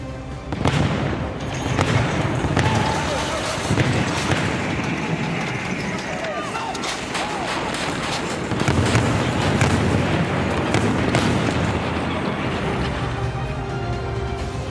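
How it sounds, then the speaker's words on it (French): Repeated heavy booms and crackling blasts of an artillery exchange between enemy and friendly guns roll on continuously, loud and dense, with brief louder bursts throughout. "S'ensuit un échange d'artillerie entre l'ennemi et les canons amis."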